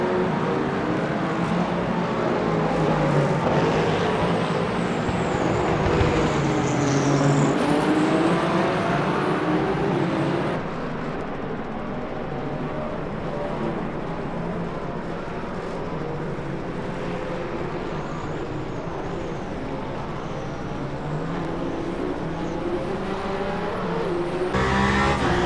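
Race cars lap the Bahrain circuit in Le Mans Ultimate during an eight-hour event, some struggling for tyre grip; a continuous loud engine drone with passing cars and occasional tyre squeal, close and unbroken, without speech.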